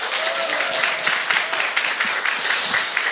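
A church congregation at a Thanksgiving service applauds, a dense and steady wash of clapping from many hands that fills the room and swells slightly toward the end.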